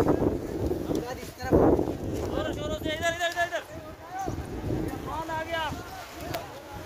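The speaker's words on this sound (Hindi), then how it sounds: "देख सकते हैं बहुत ही तेज हवा चल रही है" Strong storm wind gusting across an outdoor livestock market, a steady rushing roar with flapping and rattling, while someone talks over it throughout.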